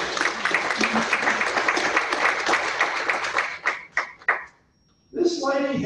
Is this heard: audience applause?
yes